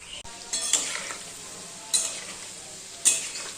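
Palm fruit fritters fry in oil for a Janmashtami puja meal, a soft continuous sizzle punctuated by three sharp bursts of stirring or spatula scraping, close and with no voices.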